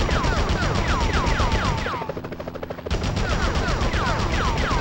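Gunfire in the PS1 game Spider-Man (2000): loud, rapid bursts of automatic fire rattle almost without pause, dipping briefly in the middle before the shooting resumes at full intensity.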